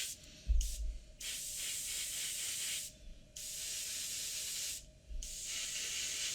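An airbrush blows a steady hiss of air to dry paint on model aircraft props, close and continuous, cut by three brief pauses with soft thumps as the airflow stops and restarts.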